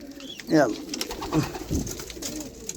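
Pigeons cooing inside a pigeon loft, a few close, low throaty coos over soft background rustling and a faint murmur of voices.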